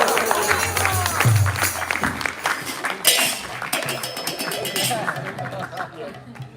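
Audience applause at a spiritual lecture on Vrindavan, brief and mixed with crowd chatter and talking, with clinks in the background.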